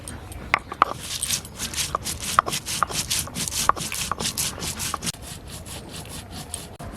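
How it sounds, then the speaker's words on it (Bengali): Cumin, bay leaf and coriander being ground together by hand on a grinding stone, a rhythmic rasping scrape repeated in quick back-and-forth strokes with occasional sharp knocks, close and moderately loud. "রান্নার ফাঁকে এখন মশলাগুলো বেটে নেব।"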